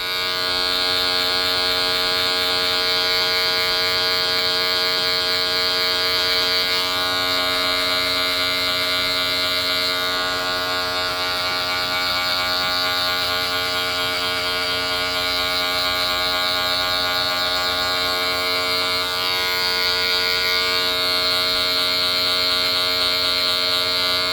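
Electric hair clippers buzz continuously and close up for a long stretch, a steady high-pitched motor drone with slight shifts in tone.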